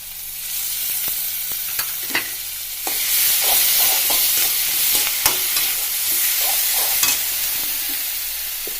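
Vegetables frying with ground chili paste in a hot pan, a steady loud sizzle with occasional stirring scrapes and clicks throughout, no voices.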